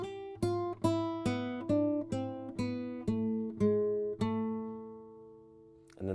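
A classical guitar plays a flamenco-style Malaguena intro, a series of about ten ringing plucked notes stepping downward over a sustained low bass, close and solo with no voices.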